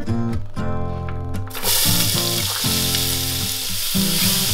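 Diced shallots, carrots and celery frying in bacon drippings, breaking into a loud, close crackling sizzle that holds steady to the end, with tonal background music running underneath throughout.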